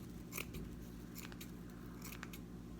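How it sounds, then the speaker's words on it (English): Scissors snipping away frayed mesh for a flower wreath, a few quiet crisp cuts spaced out over a soft background, close but faint. "if you get one that has a little bit of frays on it, just trim them away"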